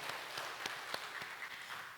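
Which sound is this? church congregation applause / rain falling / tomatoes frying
church congregation applause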